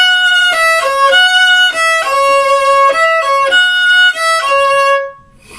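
Slow, deliberate solo violin phrase from a chorus: about eight distinct bowed notes, each separated by a short bow change, bright and close, with no talking, fading out at the end.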